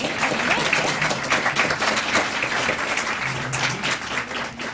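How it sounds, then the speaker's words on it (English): An audience at an awards evening applauds a championship team, sustained dense clapping with steady loudness throughout. "let's give this championship team"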